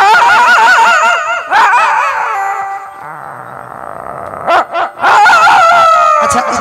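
A man imitates a dog on a Hindi comedy stage show, producing loud, close howls, whimpers and yelping barks in a drawn-out, wavering sequence with short breaks, ending in sharper yips.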